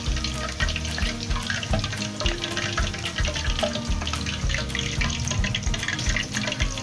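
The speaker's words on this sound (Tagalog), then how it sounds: "Try natin i-double fry. Para mas crispy." Crispy pata, a whole pork leg, sizzling as it is double-fried in a pot of hot oil outdoors, a steady dense bubbling hiss with crackles that continues loud and unbroken throughout.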